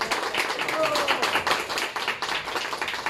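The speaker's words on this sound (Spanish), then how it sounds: "el aplauso que sea también para ellos, por favor" Crowd applause at a public announcement of the Atlixco town festival in Mexico, a dense patter of many hands clapping steadily for a few seconds at moderate loudness.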